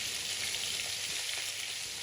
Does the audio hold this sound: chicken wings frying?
yes